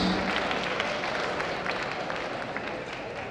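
Audience applause for a fire marshal at a crowded UCLA runway event, a steady wash of many hands clapping with a few whoops, sustained and fairly even throughout.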